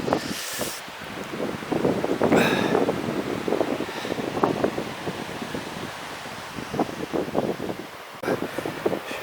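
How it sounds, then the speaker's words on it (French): Wind blowing across an open mountain trail in the Pyrenees, a steady broadband rush with gusts buffeting the microphone, continuous and fairly loud throughout. "parce qu'il y a un petit vent"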